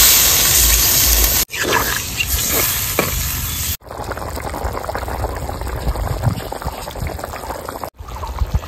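Water is poured onto potatoes frying in spices in a village kitchen, giving a loud, steady sizzle and bubbling with stirring scrapes, broken by a few brief pauses.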